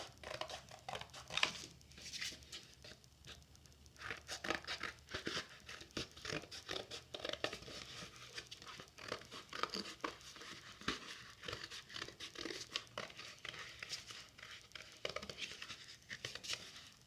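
Scissors cut a paper butterfly wing with irregular crisp snips and crinkling rustles of paper being turned and handled. The sounds are close and quiet, with no talking.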